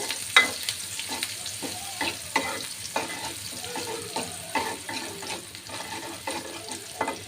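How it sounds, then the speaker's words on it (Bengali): Chopped onion with garlic sizzles in hot oil in a pan while a utensil stirs and scrapes in repeated close clatters over a continuous soft frying hiss. "পেঁয়াজ কুচি দিয়ে দিলাম রসুন তো আগেই দেওয়া হয়েছে"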